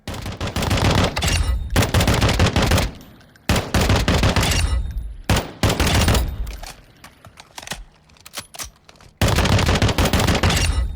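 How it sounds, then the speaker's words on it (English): FAMAS rifle in Call of Duty Modern Warfare II, converted with the Valorise kit, fires rapid full-auto bursts at a high rate of fire, loud and close, in about four long volleys separated by brief quieter gaps with faint clatter. "Pretty soft shooting, not a lot of recoil to be honest."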